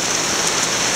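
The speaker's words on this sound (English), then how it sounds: "It's just raining." Steady rain falls outdoors in a continuous, even hiss that stays loud and close throughout, with no voices or other sounds breaking through.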